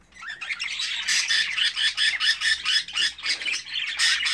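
A flock of thirteen newly arrived budgerigars, several of them females in breeding condition, squawks and chirps continuously. The calls are dense, overlapping and loud, close by and without pause.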